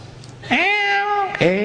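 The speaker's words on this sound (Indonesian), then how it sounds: "Kucing lucu." Cat meowing up close, two drawn-out meows, the first long and steady, the second starting near the end, following a stretch of low speech.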